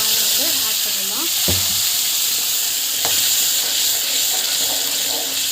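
Ground masala sautés in hot oil with a steady, close sizzle, broken by two sharp spoon taps against the pan; a faint voice murmurs briefly near the start.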